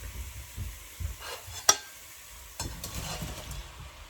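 Raw shrimp go into a pan of sizzling, thickened garlic and lemon mixture, a sharp clatter followed by a soft, steady sizzle that carries on quietly to the end.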